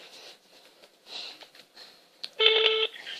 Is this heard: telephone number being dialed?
yes